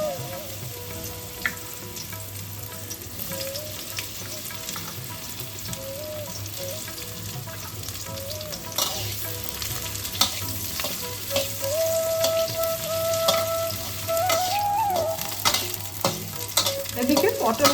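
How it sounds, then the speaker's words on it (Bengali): Pointed gourd (potol) slices frying in hot oil in a pan, a steady close sizzle with occasional stirring scrapes, loudest toward the end, with no talking. "ওই তেলেই আমরা পটলগুলোকে ভেজে"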